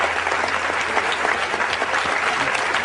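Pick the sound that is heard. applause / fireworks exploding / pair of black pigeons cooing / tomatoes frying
applause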